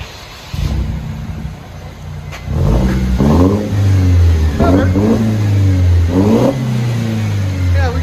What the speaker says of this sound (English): that's how you do a muffler and resonator delete on these